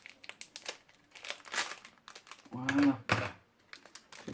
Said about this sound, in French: je suis obligé de les découper, les petits sachets.